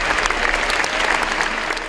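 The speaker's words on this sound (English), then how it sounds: "For about 23 minutes, hundreds of people applauded the makers of the Voice of Hind Rajab" Hundreds of people in an audience applaud the makers of a film about a young Palestinian girl, a dense, steady wash of clapping filling the whole stretch without pause.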